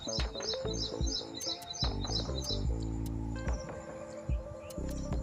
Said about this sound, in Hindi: देखिए कितना शानदार पक्षी है।